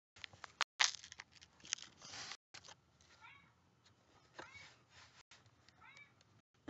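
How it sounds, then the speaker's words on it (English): Several short cat meows played back from a recording, thin and moderately faint, spaced apart with rustling and handling noises between them. "I had to get that recording off of a video on YouTube of a cat meowing"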